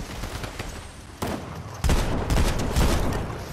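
Gunfire in a trios shooter video game comes in rapid bursts. Fire is sparse at first, then becomes loud, dense automatic fire in the second half, close and sustained, with no talking.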